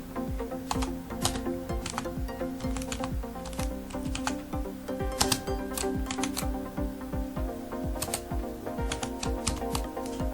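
Typing on a computer keyboard while entering data in Microsoft Excel, a steady run of close, crisp key clicks with irregular rhythm and occasional firmer taps, alone without talk.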